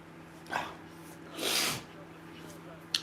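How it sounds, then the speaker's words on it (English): A person blows their nose hard into a tissue: a short, breathy burst comes first, then a longer, louder honking blow, heard close up over a faint steady background hum. "let me blow my nose"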